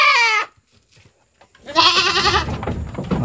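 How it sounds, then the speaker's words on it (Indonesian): A goat bleats loudly at close range in a farm pen, with one short cry, a brief silence, then a longer wavering call. "kambingnya sudah masuk ke kandang."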